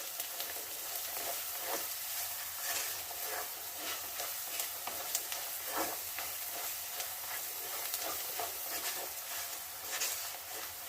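Coriander powder fries in a pan for a lentil dal curry, giving a steady, soft hiss and sizzle with faint scraping and stirring throughout, close and alone.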